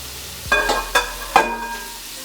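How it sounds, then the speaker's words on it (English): Ingredients going into a hot Cosori multicooker pot, three quick sizzling splashes about half a second apart over a low background hum, close and fairly clear. "Now we'll start adding everything in the pot here."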